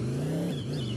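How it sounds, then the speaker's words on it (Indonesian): A formula racing car engine in a video game revs in a steady, loud drone that dips briefly as the pitch shifts midway, with no voices. "Mobil formula, guys."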